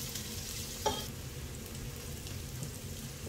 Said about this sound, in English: I'm going to put in some chopped onion. Right. I'm going to keep stirring for a few minutes.